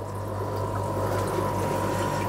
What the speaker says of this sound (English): So we've got the drip tip there, filling it up.